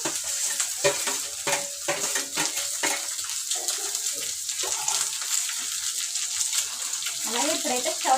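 Thinly sliced boiled eggs fry in a pan for a home-cooked egg fry, giving a steady close sizzle and crackle with occasional stirring scrapes, while a person talks at times.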